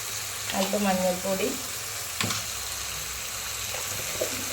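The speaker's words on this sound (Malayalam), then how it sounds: "ഉപ്പിട്ടിട്ട് നന്നായിട്ടൊന്ന് വഴറ്റി കൊടുക്കുക" Onions and other ingredients sautéing with salt and turmeric for a Kerala fish curry, a close, steady sizzle with stirring scrapes and a brief voice over it.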